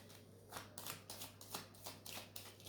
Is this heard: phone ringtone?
no